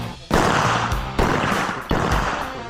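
A handgun fires at a police training range: a series of sharp, loud, close reports about a second apart, each ringing out with a lingering echo.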